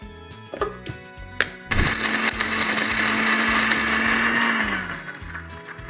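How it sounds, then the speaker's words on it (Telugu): A kitchen mixer grinder grinds green chillies, garlic, fresh coconut and tamarind for coconut chutney, starting abruptly after a few soft handling knocks and whirring loud and steady for about three seconds before winding down. "ఫస్ట్ దీన్ని మనం మిక్సీ పట్టుకోవాలి"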